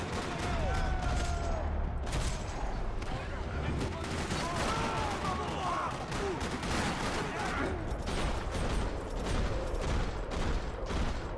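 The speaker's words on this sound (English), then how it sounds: "Another parking lot rattling with gunfire." Max Payne 3 gunfire rattles in rapid, overlapping bursts with scattered shots and booms in a parking lot, a busy battle din that barely lets up; a voice talks over it.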